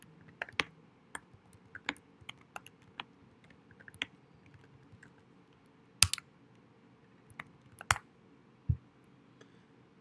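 Someone typing a product review on a computer keyboard, quiet and close: scattered light key clicks with a few sharper, louder taps, irregular rhythm, no talking.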